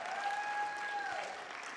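A church congregation at a Sunday service gives a short burst of steady applause, moderately loud and slightly distant, with a sustained whistling or feedback-like tone running through it.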